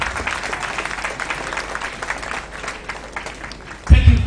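Clapping from the audience at St. John's School's 67th anniversary celebration in Sekondi, a steady crowd round of applause that fades before a loud voice cuts in at the end.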